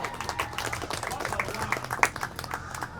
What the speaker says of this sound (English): Let's clap for Angela.